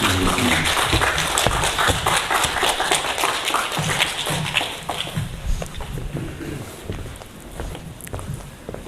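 An audience at a public history lecture in Chuncheon, Korea, applauds to welcome the lecturer, a busy burst of many hands clapping close by that gradually thins and softens toward the end.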